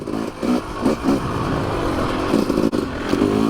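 A Yamaha YZ 250 dirt bike ridden on a dry, loose trail, its engine droning steadily and rising in a few brief revving surges, loud and close throughout.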